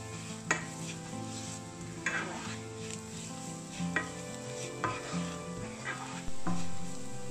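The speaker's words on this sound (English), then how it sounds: "Add salt to taste and mix well." Egg curry being stirred and mixed after salt goes in, a spoon scraping and clanking against the pan in repeated strokes over a soft background sizzle, close and fairly quiet.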